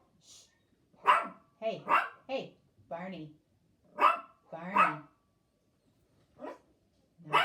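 A dog barks in short, sharp bursts close by, several barks spread across the moment, mixed with a person speaking to it.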